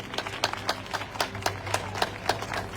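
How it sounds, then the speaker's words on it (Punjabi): A congregation at a Christian worship gathering claps in praise of God, producing a steady, rhythmic beat of sharp claps at moderate volume, repeating evenly with no speech over it. "ਯੋਰ ਨਾਲ ਤਾੜੀਆਂ ਮਾਰੋ ਪਰਮੇਸ਼ਰ ਨੂੰ"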